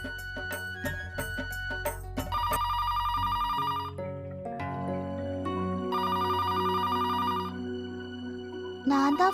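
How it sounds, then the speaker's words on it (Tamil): A telephone rings loudly in a home during a Tamil television serial, repeated electronic ring bursts over background music, with no one speaking over it. "நான் தான் போன் எடுக்கணும் போல இருக்கு."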